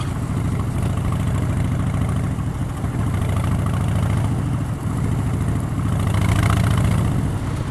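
A loud motorcycle idles close by on the Isle of Man during TT week, its deep, steady engine rumble running continuously without pause.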